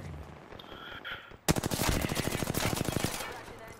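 Dense automatic gunfire in the video game Apex Legends: a rapid burst of evenly spaced shots starts abruptly after quieter game ambience and keeps firing loudly for about two seconds before easing off.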